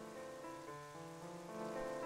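Steady rain falls in The Legend of Zelda: Twilight Princess, a constant hiss laid over sustained tonal background music, loud and even throughout with no voices.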